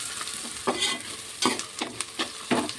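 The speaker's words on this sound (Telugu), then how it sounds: "ఇవన్నీ బాగా దూరగా వేయించుకోవాలండి" Spices frying hard in a pan for a raw fish curry, with a steady sizzle broken by several scraping stirs at irregular intervals, close and fairly loud, no voices.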